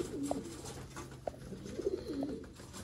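Breeder pigeons at a loft in Sangjani, Rawalpindi, give soft, low coos, a few rounded calls spaced out over a quiet, faintly noisy background.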